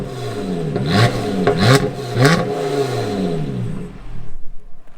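A Lotus Exige V6 S with a 3.5-litre engine starts up and revs several times in quick rising and falling bursts, loud and close, before settling to a lower idle.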